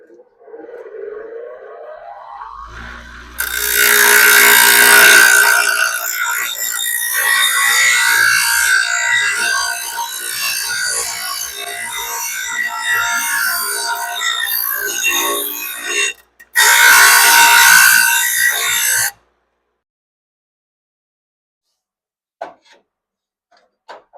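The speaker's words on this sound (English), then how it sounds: "This piece here, I'm going to have to trim this up on the little grinder" A small grinder trimming a metal piece during fabrication on a rotted-out 1979 Plymouth Volare wagon: a loud continuous harsh whir that runs for about thirteen seconds, briefly stops, then bursts again before cutting off to near silence.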